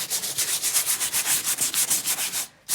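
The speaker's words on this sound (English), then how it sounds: "very sort of light sanding. Just sand it, get all the bobbles off it really." Steady rhythmic rubbing of light hand sanding over a leather sofa cushion, with quick even strokes close up and no talking, stopping abruptly at the end.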